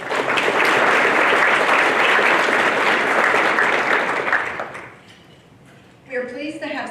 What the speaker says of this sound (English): Please give a round of applause for our volunteers and the Tulsa Tech staff who work so hard